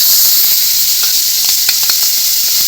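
Shrimp fry in hot oil in a pan, giving a steady, loud sizzling hiss with a few small pops and crackles scattered throughout.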